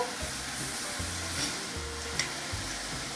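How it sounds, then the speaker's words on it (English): Sliced sweet onions dropped into very hot olive oil in a stock pot for French onion soup, a dense continuous sizzle with a low rumbling hum beneath, steady and close, without talking. "I'm going to drop them in my very hot stock pot with some olive oil"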